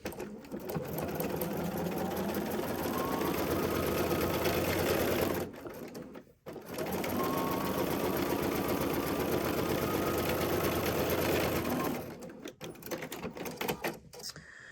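A sewing machine stitches a crossbody bag panel in two long, steady bursts of rapid mechanical chatter, each stopping briefly before resuming, close and loud.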